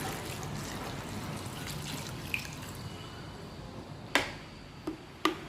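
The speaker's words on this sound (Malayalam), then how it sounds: "ക്യാബേജ് മുങ്ങിക്കിടക്കത്തക്ക രീതിയിൽ വെള്ളം ഒഴിച്ചു കൊടുക്കാം." Water pours steadily over cut cabbage in a bowl, a soft even trickling wash, followed by a few sharp clinks and drips near the end, with no voices.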